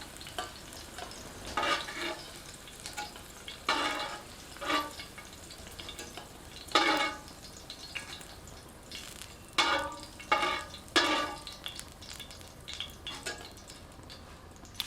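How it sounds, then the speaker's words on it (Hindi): Green chillies fry in hot oil in a home kitchen, with a soft, steady sizzle broken by recurring bursts of stirring and spatter, close and moderately loud, with no one talking. "तेल में हरी मिर्चों को थोड़ा सा तलते हैं।"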